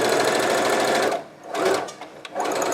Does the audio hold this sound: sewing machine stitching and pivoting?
yes